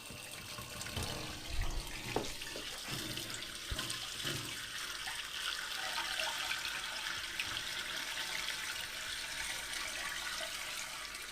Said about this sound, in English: we're gonna pour some water down there right now and see if that's the problem